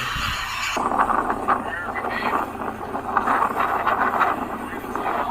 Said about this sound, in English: So that's how windy it was.